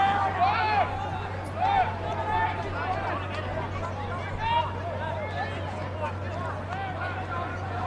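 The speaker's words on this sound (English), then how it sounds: "Nice little crowd here on a Friday night" Crowd at a Friday night under-18 football grand final, a steady babble of distant spectators with scattered shouts, heard under continuous commentary from a nearby voice.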